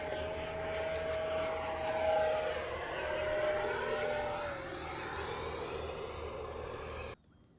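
FMS 80mm Dassault Rafale RC electric ducted-fan jet on a landing approach at a 4th of July event, a steady whooshing whine with slowly shifting pitch, held at an even level for about seven seconds before cutting away abruptly.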